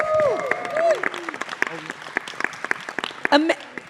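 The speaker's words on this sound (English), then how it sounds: "Can we give him a round of applause?" At a global press conference for Star Wars: The Rise of Skywalker, an audience breaks into scattered applause, with individual claps popping out over moving voices and a brief squeal of sound near the start.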